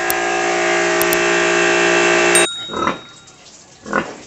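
A sow being bathed three days after farrowing, her third litter: a loud, sustained squeal-like drone cuts off after about two and a half seconds, followed by two short, nearer grunting bursts.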